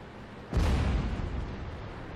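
A single heavy artillery blast in a video game bursts in suddenly, loud and broadband, then rolls off into a long rumbling decay that lingers to the end.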